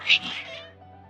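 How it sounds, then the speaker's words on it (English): Cats in the game Genshin Impact let out one sharp, agitated meow followed by a softer, trailing cry, close and clear against a quiet background. "Your cats seem pretty worked up."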